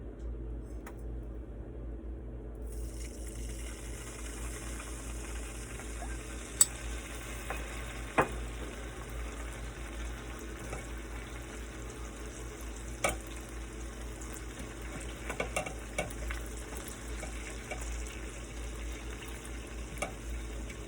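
Half a stick of melted butter sizzles steadily in a hot pan while steak and seafood cook, a soft, continuous frying hiss with a few faint clinks and no talk.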